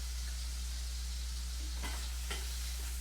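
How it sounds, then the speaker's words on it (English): Chicken pieces sear in oil in a pan while cooking Chicken Riggies, a steady soft sizzle under a low constant hum, with a couple of brief scraping stirs near the end. "Just going to get a little sear on it and take it out"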